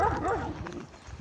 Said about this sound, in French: Il y a des chiens qui se crient dessus.